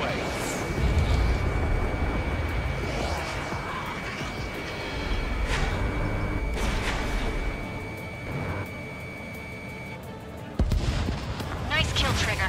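Missiles launch and explode during an Ace Combat 7 jet dogfight in the 'Charge the Enemy' mission, heard from the pilot's cockpit. Rumbling booms and engine roar run under radio voices, with a sharp, close blast late on.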